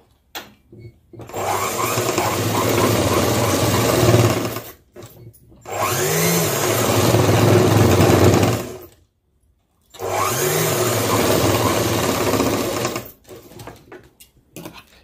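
Sewing machine stitching a garment pocket, running in three sustained bursts separated by short pauses, loud and close with a steady mechanical whir.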